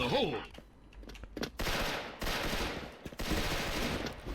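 Gunfire in the online shooter Special Force, with a double-barrel Winchester shotgun in play: loud bursts of rapid shots in several dense volleys, broken by brief pauses, close and dominant.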